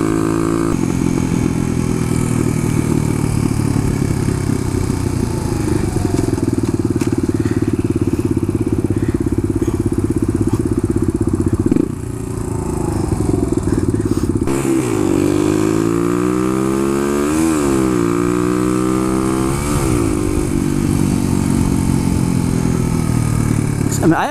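A Suzuki DR-200 motorcycle engine runs steadily and close throughout, rising and falling in pitch as the rider shifts and accelerates, with someone talking over it.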